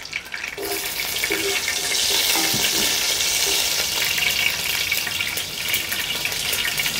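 Cumin, mustard seeds and green chillies fry in half a cup of hot oil for homemade pasta, a loud, dense, continuous hiss and crackle with a few sharp pops near the start.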